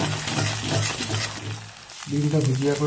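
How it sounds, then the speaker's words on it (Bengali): Steady hot-oil sizzle of an egg frying in a wok, crackling throughout, with a voice or tonal sound running over it and a brief dip near the end. "তেলটা গরম হয়ে গেছে। এর মধ্যে আমি একটা ডিম ফাটিয়ে দেবো"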